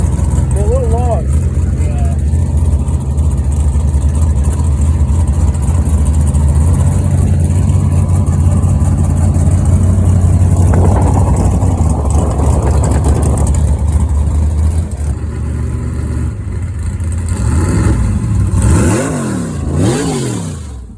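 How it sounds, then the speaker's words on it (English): A truck engine revs hard as it pulls off the pad, loud and close, rising and falling over about twenty seconds, with a crowd and an announcer's voice mixed in before it tapers off. "Let's make some noise for Silas as he makes his way off the pad"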